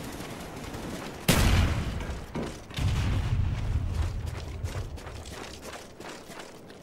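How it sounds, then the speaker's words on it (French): In Call of Duty Black Ops, a thrown grenade goes off in a sudden loud blast, followed by rumbling debris and scattered gunfire that continue for several seconds. "Throwing grenade."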